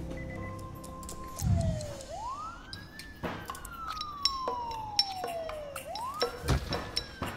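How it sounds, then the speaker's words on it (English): Wailing ambulance sirens from the SimCity video game, rising and falling in slow sweeping glides at moderate distance, with faint game sound effects and clicks in the background and no talking. "Four ambulances."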